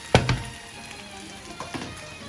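Onion, parsley and chicken filling sizzles steadily in a hot pan while being stirred, with a couple of sharper scrapes near the start and a soft continuous fry underneath.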